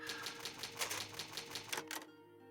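Rapid mechanical typewriter key clacks ring out in a quick run before stopping abruptly, the save sound in the video game Resident Evil.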